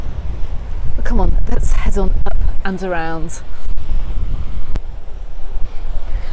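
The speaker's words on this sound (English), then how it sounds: "with this wind, well, it has made the sea a little bit choppy" Strong seaside wind roars steadily and buffets the microphone beside a choppy sea, loud and constant while someone talks briefly over it.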